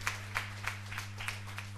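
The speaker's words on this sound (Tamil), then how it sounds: "அவருக்கு பரத்த கரகோஷம் தருமாறு கேட்டுக்கொள்கிறோம்" Applause from a meeting audience, modest and somewhat distant, with a few sharper claps standing out over a steady low electrical hum.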